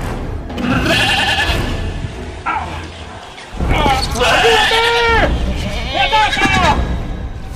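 Sheep bleating and ramming in an attack scene from a Chilean radio drama, with loud harmonic bleats mixed among excited shouting voices and rustling, close and busy throughout.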